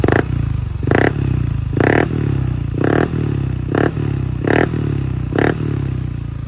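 A Yamaha Aerox V3 scooter with an Apido exhaust pipe blips its throttle in seven short, evenly spaced revs over a low rumbling idle, loud and close, with a crackly exhaust note and no talking.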